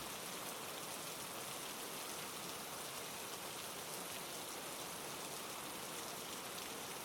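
Steady rain falls through a quiet night as a storm eases, a dense even hiss of drops that stays constant and fairly close with no voices.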